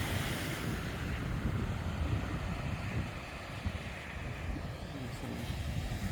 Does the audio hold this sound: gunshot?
no